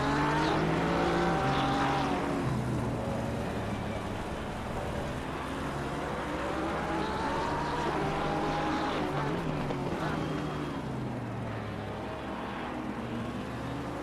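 GT3 race cars, a Porsche and an Aston Martin, scream around the Nürburgring circuit, with a sustained high-revving engine note rising and falling through gear changes, steady and fairly close throughout.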